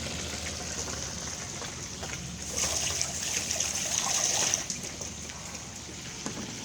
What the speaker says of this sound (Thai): ปลาสดใส่ลงไป เริ่มเดือดนะครับ